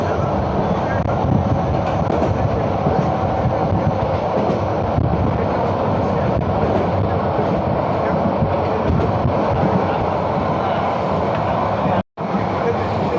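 A train runs steadily along the rails, its loud continuous rumble and rattle filling the whole clip before a sudden brief dropout near the end; no voices break through.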